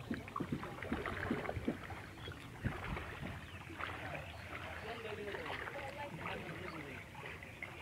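A boat glides through floodwater along a village road, with soft lapping and splashing water, light wind buffeting and faint voices talking in the background, all fairly quiet and continuous.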